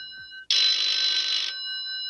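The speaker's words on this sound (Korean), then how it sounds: "길고 긴 침묵을 깨고 한 통의 전화가 걸려옵니다." A telephone rings once in a quiet room: a single loud, sustained electronic ring lasting about a second, with a faint steady tone before and after it.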